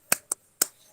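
Three sharp, close hand claps in quick uneven rhythm, as in a class cheer led for third-grade pupils during an online lesson, each crisp and brief with silence between.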